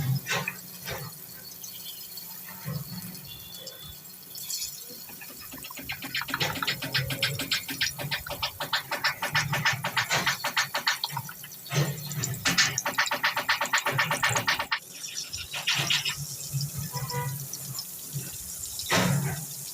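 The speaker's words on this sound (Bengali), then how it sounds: "ওই গরম তেলের ভিতরে এখন এই মাংসগুলো ভালো করে ভেজে নেব।" Meat pieces for fried rice fry in hot oil with a dense, rushing sizzle that swells and fades as they are moved about, running steadily with no talking.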